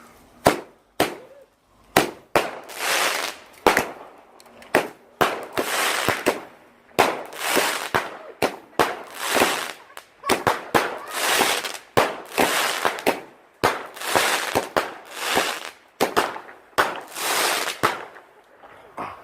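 A Venom Tooth firework goes off on Bonfire Night in a long string of sharp crackling bangs. The reports fire in rapid irregular bursts with short gaps between them, loud and close.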